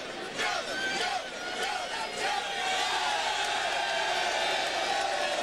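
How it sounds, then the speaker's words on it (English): A football stadium crowd chants for Joe Theismann at a 1999 Raiders at Titans game, a dense, sustained roar of many distant voices with no single speaker standing out. "The crowd now starting to chant for Joe Theismann"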